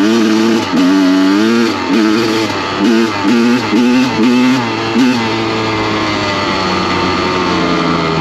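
A Honda 250 CR two-stroke dirt bike runs in the snow, its engine loud and close, blipping through a series of sharp revs before settling into a steady high idle.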